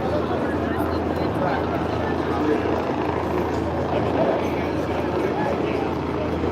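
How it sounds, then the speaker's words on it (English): A helicopter hovers overhead during a street rally in Hollywood, its steady rotor drone loud and continuous with a crowd murmuring beneath it. "They got a helicopter right overhead,"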